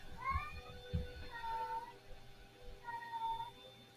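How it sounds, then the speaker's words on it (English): A pet cat meows softly in the background, several drawn-out cries spread across a few seconds, faint beneath a quiet room hum. "I hope you can't hear my cat in the background."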